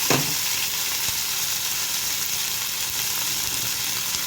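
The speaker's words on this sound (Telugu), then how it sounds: "ఇవి బ్రౌన్ కలర్ వచ్చే వరకు వేయించుకోవాలి" Onions frying in a pan with oil, a steady, loud, continuous sizzle and hiss throughout, with a brief clatter at the start; no talking.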